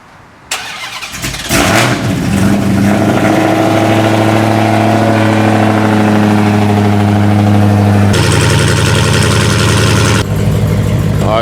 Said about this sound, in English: You guys already know we have to start it off with the cold start.